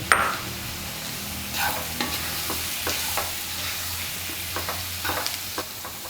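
A spoon scrapes and stirs grated boiled potato with masala in a sizzling pan, with intermittent clinks and a steady frying hiss close by.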